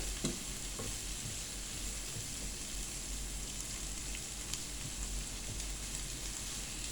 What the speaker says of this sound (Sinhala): ඉතින් මේක මේ වගේ අඩු ගින්දරේ පොඩ්ඩක් මේ විදියට කුක් කරගන්න ඕනේ